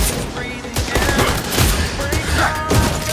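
Clint's rapid gunshots in the mobile game Mobile Legends, dense crackling volleys of shots mixed with skill effects and busy battle noise, loud and close throughout.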